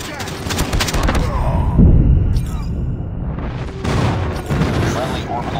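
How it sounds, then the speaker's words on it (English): Airstrike explosions in the mobile shooter COD Mobile during a crowded 10v10 team deathmatch on Shipment, heard as dense, continuous booming and gunfire-like bursts with a heavier low blast near the middle, loud and close throughout. "Friendly airstrike incoming"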